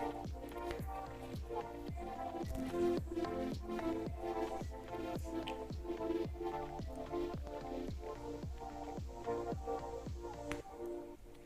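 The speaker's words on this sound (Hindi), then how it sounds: "अब हालोमी चीज़ डालने के बाद हमने इसको अच्छी तरह मिक्स करना है ताकि पूरे आटे के अंदर ये चीज़ मिक्स हो जाए" Bread dough with halloumi cheese being mixed and kneaded by hand, a regular rhythm of wet squishing slaps repeating about twice a second, close and steady throughout, no talk.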